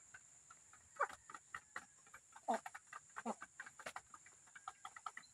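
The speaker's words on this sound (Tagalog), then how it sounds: "Pakain tayo ng mga native manok." Native chickens cluck and chatter in quick, irregular bursts, a few nearby calls standing out over a steady high insect-like hiss, fairly quiet overall.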